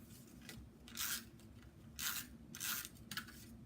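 Sheets of Shaded Spruce cardstock, 5.5 by 8.5 inches, are folded in half, giving several short papery swipes and creases close by with quiet gaps between them and no talking.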